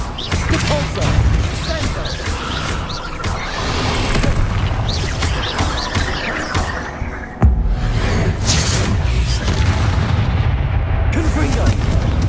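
Bombarda and Confringo spell explosions in Hogwarts Legacy fire off in rapid succession, a relentless barrage of loud blasts and crashes with one sharp hit standing out partway through, while spell names are called out over the top.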